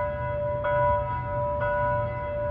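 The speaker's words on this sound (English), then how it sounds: "right across from it are these massive buildings with the bell ringing in the bell tower right now" Church bell ringing in the bell tower of a massive old stone building across from a county courthouse in Syracuse, with steady sustained tones and two soft strikes over a low background rumble, heard from a distance outdoors.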